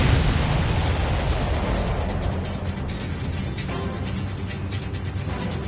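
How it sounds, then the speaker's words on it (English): In Ace Combat 7, a missile launch and explosion give a loud, rumbling burst that rolls into a grinding, mechanical-sounding roar, which thins out over several seconds. "Strider 1, missile away."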